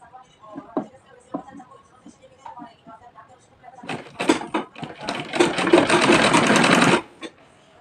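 Sewing machine stitching the folded half-inch hem of a frock, a few short bursts at first and then one loud, steady run of fast stitching lasting about three seconds before it stops.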